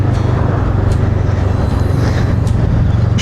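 A Honda 500 Rebel motorcycle rides along with a steady, loud engine drone and continuous road and wind rush, with no talking.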